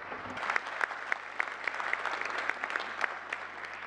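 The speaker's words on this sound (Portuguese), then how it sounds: "Um aplauso para ele." Faint, steady audience applause for an author at a meeting, a soft patter of many hands clapping for a few seconds with no voices over it.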